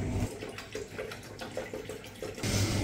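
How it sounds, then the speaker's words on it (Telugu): Hot water pours steadily into a travel flask, a continuous close splashing rush that ends in a louder, fuller gush as the flask fills. "రిచిబాబు కోసం, హాట్ వాటర్ని ఇందులో పట్టుకుంటాము."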